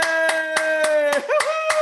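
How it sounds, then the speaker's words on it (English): Evenly spaced hand claps ring out in a quick, regular rhythm over a steady sustained tone, loud and close. "Give yourself a big round of applause."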